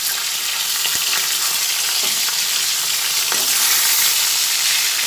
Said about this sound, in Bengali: লাল লাল করেই মাছগুলো ভেজে করে নিলাম